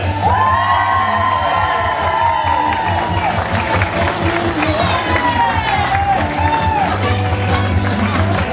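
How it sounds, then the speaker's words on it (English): Wedding guests at a restaurant reception in Marshfield, Massachusetts applaud and cheer loudly and steadily, with whoops and shouts throughout as the groom's parents are introduced. "continue your applause for the parents of the groom"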